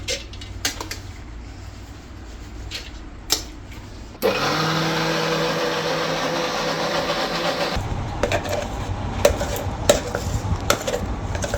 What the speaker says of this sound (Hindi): फिर मैं मिक्सर में पीस के और इसके बड़े बनाऊंगी